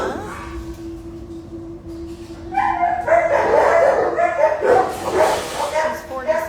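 A German Shepherd-type dog whines and yips, then breaks into a run of excited barks and whimpers close by, with a person talking over part of it.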